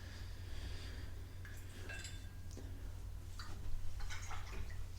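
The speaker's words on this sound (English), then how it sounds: "Cleaning my brush" A paintbrush is rinsed in a water container, giving soft sloshing and light clinks of the brush against the sides, quiet and close over a low steady background hum.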